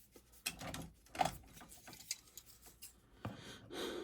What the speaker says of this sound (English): And then we're going to take the scissors and trim.